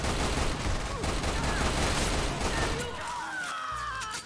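Rapid automatic gunfire in the video game Lost Planet 2, a sustained loud barrage of overlapping shots that thins toward the end. Game effects and a faint voice sit underneath.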